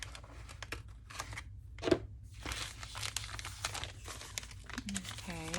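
Scissors cut bulk paper out of a handmade journal, giving crinkly snipping and rustling bursts at close range with a sharp crunch partway through, followed by soft handling noise.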